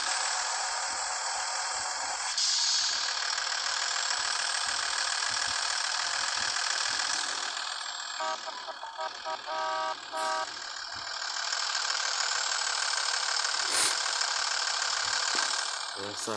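Scania S 450 truck engine in a truck-driving game, a steady loud drone running throughout with brief tonal blips partway through and no pauses.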